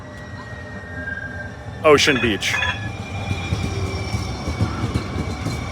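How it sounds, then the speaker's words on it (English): San Francisco Muni N train running toward Ocean Beach, with loud metallic wheel squeals around two to three seconds over a steady rumble of the rail car, and a voice announcing a stop. "This is the N train"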